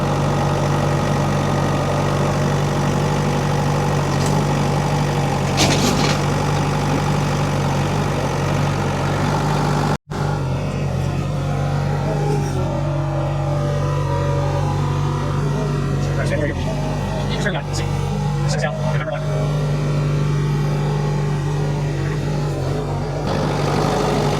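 Tractor fitted with a log grapple handling firewood logs, its engine running at a steady loud idle throughout, with a brief knock partway and scattered clanks afterward.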